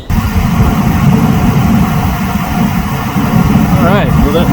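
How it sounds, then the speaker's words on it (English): The heater blower motor of a 2006 Ford F-250 runs with a loud, steady, jet-like roaring whoosh that continues unbroken. A brief voice sound is heard near the end. "that noise you're hearing is not a jet overhead, but it's the heater motor going."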